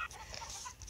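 Chickens in the mobile farming game Egg Inc give soft, quick clucks, several brief calls in a faint one-second burst with no talk.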